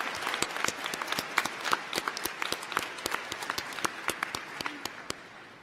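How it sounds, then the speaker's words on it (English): Audience applause at the College of DuPage 56th annual commencement, a steady wash of many hands clapping with sharp individual claps standing out, sustained at moderate loudness throughout and tapering slightly at the end. "Let's give them a round of applause."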